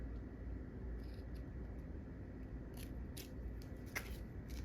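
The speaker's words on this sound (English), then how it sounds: "let's take and do a little snip right here at the corner" Scissors snipping a corner of paper while making Halloween wall decor, a few quiet, crisp cutting clicks over a low steady background hum, with no talking.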